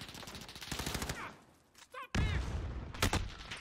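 Rapid bursts of automatic gunfire from a Call of Duty Modern Warfare multiplayer match crackle loudly in quick repeated volleys, pausing briefly before resuming, with a few faint game sounds in between.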